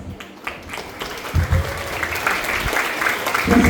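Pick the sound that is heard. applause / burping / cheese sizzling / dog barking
applause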